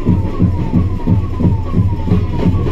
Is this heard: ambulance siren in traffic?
yes